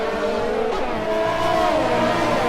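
Formula 1 race cars in the video game F1 2020 battle for position at turn 3 on the Australian circuit, one passing around the outside. Close, loud engine whine rises and falls in pitch with a hint of tire scrub.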